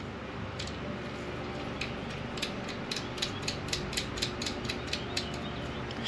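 A bolt with a flat washer being screwed down on a Honda Goldwing motorcycle, heard as a steady run of quiet, regular ratchet-like clicks over a low background hum, with no talking.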